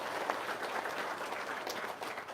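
Audience hand clapping at a testimonial gathering, a steady moderate patter of many hands sustained throughout, heard somewhat at a distance.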